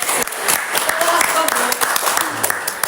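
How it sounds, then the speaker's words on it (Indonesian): An audience at a student organization talk claps in a loud, continuous burst that lasts a few seconds, with voices mixed into it. "Tepuk tangan dulu dong buat imajinasi"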